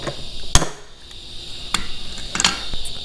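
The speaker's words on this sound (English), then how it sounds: "let me just rivet these new hinges on there" Sharp metallic snaps of a rivet tool setting new hinges onto a Seadoo Speedster jet boat hatch, three or four distinct close hits spaced irregularly over a steady background hiss.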